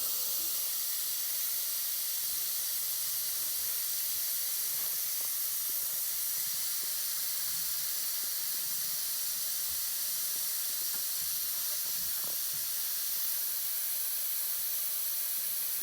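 Air hisses steadily out of a tractor tire valve, a loud continuous bright rush held close to the microphone, with faint knocks and clicks underneath.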